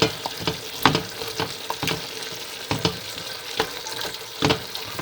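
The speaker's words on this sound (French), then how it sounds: "On laisse un peu cuire. Vous laissez mijoter un peu." Veal tajine with parsley simmering in a pot, with a steady sizzle and bubbling broken by repeated light scrapes and clinks of stirring, close and moderately loud, with no voices.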